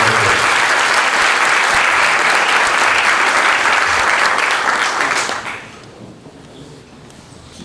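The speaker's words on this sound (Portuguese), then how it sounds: "uma salva de palmas para esses irmãos." Audience clapping for two brothers at a Black Consciousness Day gathering: loud, full applause that holds steady for about five seconds, then fades out into quiet room tone.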